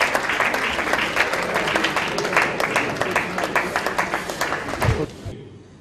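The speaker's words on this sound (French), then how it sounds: "Nous invitons le producteur national de faire son entrée sous vos applaudissements" Applause at a repatriation ceremony for Lumumba's remains, greeting a national producer's entrance: dense, steady clapping from a crowd that thins and fades out near the end, with some voices faintly underneath.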